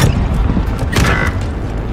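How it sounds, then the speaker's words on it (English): A rocket launcher fires in Call of Duty: Modern Warfare, a short loud burst with a rushing whoosh that stands alone, with game noise behind it and no voices. "Firing rocket."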